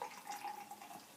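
Banks's Bitter beer poured aggressively into a glass, a short, close splashing gush of liquid with bubbling and fizz.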